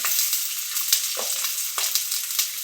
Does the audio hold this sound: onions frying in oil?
yes